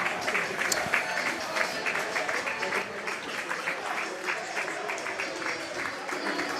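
Football crowd at a Crawley Town versus Charlton stadium match, with broad noisy applause and crowd sound as the Wycombe players go over to their fans, and a commentator's voice faintly mixed in.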